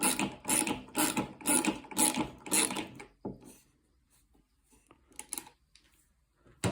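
Screws are driven into a wooden nesting box, giving a run of close, rapid ratcheting clicks for about three seconds, then quieter scattered knocks and handling noises.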